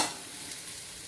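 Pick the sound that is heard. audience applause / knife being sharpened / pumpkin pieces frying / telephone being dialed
pumpkin pieces frying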